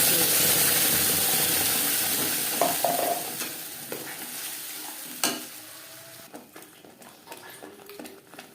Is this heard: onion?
yes